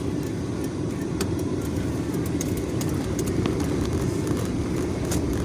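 A car drives along with a steady, continuous rumble of engine and road noise, loud and close, with no voices.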